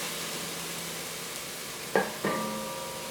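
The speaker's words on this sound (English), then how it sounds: "Now I'm going to add a little bit of veggie broth. This is going to deglaze the pan." Vegetable broth poured into a hot oil-free pan to deglaze it: a soft, steady sizzle throughout, with two short splashy bursts near the end as liquid hits the pan.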